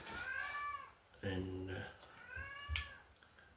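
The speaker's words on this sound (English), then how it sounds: "that's the local cat." A local outdoor cat meows a few times, fairly close, with a person talking around and between the calls.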